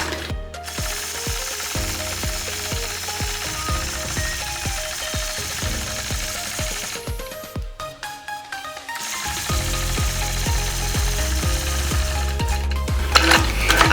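A sewing machine runs continuously while quilting an echo line along a ruler, its needle mechanism ticking and whirring in a fast, steady rhythm with brief slowdowns and restarts.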